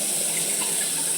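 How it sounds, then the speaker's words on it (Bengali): Water running from a tap into a bathroom washbasin in a newly fitted common bathroom, a steady close hiss of flow with no voices. "এই বেসিংয়ের এই কল খুলছি"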